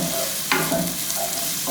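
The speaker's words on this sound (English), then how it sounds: "Okay, so I'm just going to fry that about a bit." Potato and tomato fry in a pan for smoorsnoek with smoked snoek, a loud continuous sizzle broken by two brisk scraping stirs.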